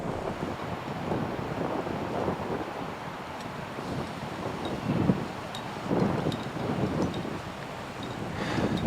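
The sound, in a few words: strong wind on a cliff top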